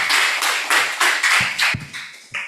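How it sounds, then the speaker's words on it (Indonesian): Seminar audience applauding in a hall, a dense wash of many hands clapping at once that swells in several short waves and then fades out near the end. "Saya boleh minta untuk kita kasih tepuk tangan yang paling keras"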